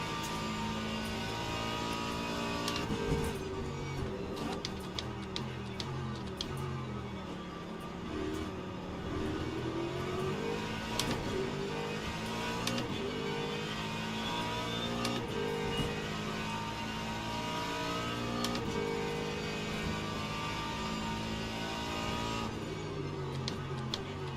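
GT3 race car engines in the sim racing game Le Mans Ultimate at Sebring, several cars running bumper to bumper, with engines droning and shifting pitch through gear changes alongside sharp clicks and bumps across a steady, continuous stretch.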